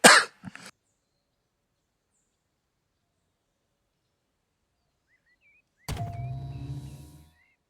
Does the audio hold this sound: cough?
yes